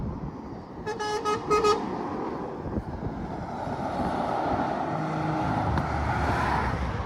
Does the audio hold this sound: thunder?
no